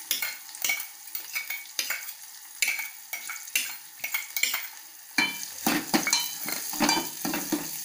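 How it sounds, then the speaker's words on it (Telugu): Moong dal (pesara pappu) frying with green chillies in a pan, a steady close sizzle broken by scraping stirs and clinks of a spoon against metal, growing busier and louder in the second half, no talking. "కొంచెం వేగాక నేను వెంటనే పప్పు వేసుకుంటున్నాను."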